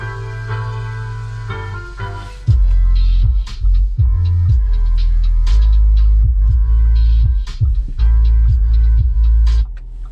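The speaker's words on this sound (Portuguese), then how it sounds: "Eu até deixei separado um trechinho de uma música, porque por mais que esse som não seja assinado, ele tem uma boa qualidade e os graves são muito bem acentuados" Music plays through the factory sound system of an Audi Q3 1.4 TFSI Prestige Plus, heavy pounding bass beats driving a steady rhythm, loud and close, with no talking over it.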